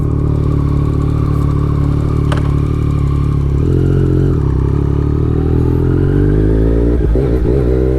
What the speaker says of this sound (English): I let the bike idle for, I mean, as long as it takes me to get my gear on